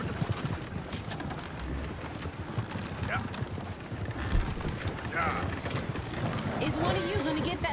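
Hooves clip-clopping steadily from a horse in the video game Red Dead Redemption 2, moving along under a busy outdoor town ambience with people talking nearby and a brief whinny-like cry.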